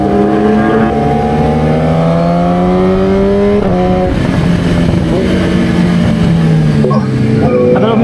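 Motorcycle engine on a downhill mountain road at Marilaque, climbing in pitch then dropping as it shifts into high gear, loud and close with wind noise, then revving again through further gear changes.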